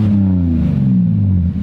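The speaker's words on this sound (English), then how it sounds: "Rev it up a little." Toyota pickup truck fitted with a single Magnaflow exhaust, idling and revving with a steady deep drone that sags slightly in pitch, close and loud, with no talk.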